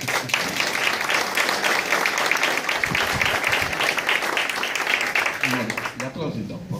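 An audience applauds at a talk on Sardinian folk dance, sustained crowd clapping that stays loud and full before thinning out near the end as a voice starts to speak.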